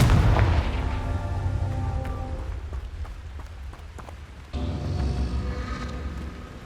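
Loud blasting bursts from a Confringo spell in Hogwarts Legacy, booming low rumbles with a sharp crack near the start and another surge midway, no talking.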